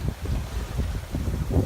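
Steady wind rushes over the microphone aboard a sailboat in force 3-4 conditions, a continuous close roar with low rumbling gusts and faint water wash underneath.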